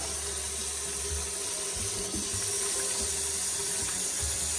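Steady rush of hot water pouring from a kitchen faucet into a sink, a constant hiss with faint gurgles and clinks underneath.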